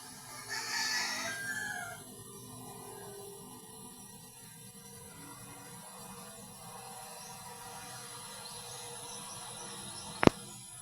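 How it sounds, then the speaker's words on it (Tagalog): A rooster crows once at the start, moderately close, against a quiet outdoor background of insect chirring, followed by a sharp knock near the end. "Sobrang ingay ng manok."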